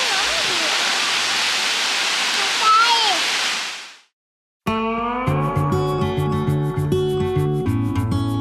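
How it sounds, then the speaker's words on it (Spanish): Looking Glass Falls, a mountain waterfall in North Carolina, roars as a steady broadband rush for about four seconds with faint voices over it, then fades out and gives way to music. "Así se ve la cascada de acá."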